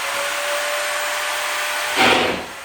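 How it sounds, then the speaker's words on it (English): A screw gun drives a drywall screw into a 9 ft ceiling, a steady high motor whine that ends with a short, loud burst as the screw bites and sets, close by. "so when you screw the screw in, if you do it just right, it sets the screw exactly where you need it"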